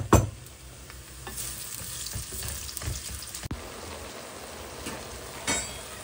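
Onion and garlic fry in a pan in a home kitchen, a steady close sizzle broken by scrapes and clinks of stirring, with no talk.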